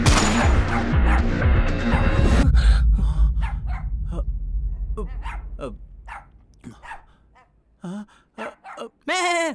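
A dog barks in short sharp bursts near the end, after a noisy, crashing stretch and quieter sparse sounds; a high whine sweeps at the close.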